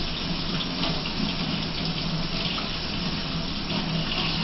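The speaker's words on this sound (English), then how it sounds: "Then you want to completely rinse your hands with clean water." Steady running water from a tap splashes continuously into a sink as hands are rinsed, close and even throughout.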